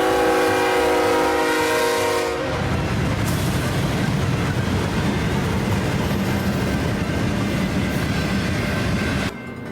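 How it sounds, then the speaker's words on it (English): A train horn sounds loud and sustained for the first couple of seconds, then a freight train rumbles past the Augusta Depot with a steady roar of wheels and cars that cuts off abruptly near the end. "The first train we saw of interest was an H1-9."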